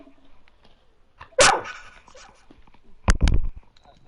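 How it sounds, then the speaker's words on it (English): A dog named Diamond gives two loud, sharp barks about two seconds apart, close by, with quiet background sounds and no talking between them. "Diamond barking at me."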